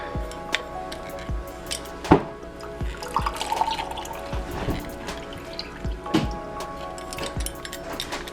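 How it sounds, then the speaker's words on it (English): Lime juice drips and splashes in scattered, irregular drops during drink preparation in a kitchen, with occasional light clinks of a utensil or glass nearby. "now we're just going to take our limes and juice that"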